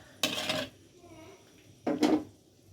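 Two short scraping clatters of a spoon stirring khichuri in a cooking pot, each about half a second long and close by, separated by a quiet pause.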